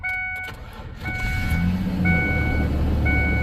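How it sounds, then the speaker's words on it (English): A 2003 Ford Ranger cranks and starts: brief clicks and cranking, then the engine catches and settles into a steady close idle, with a repeating dashboard chime beeping over it. "And there we have it. Vehicle's running, no blinking theft light."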